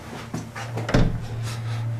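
A door being handled at Jamaica Inn, a wooden knock and rattle of the latch close by, followed by a low steady hum.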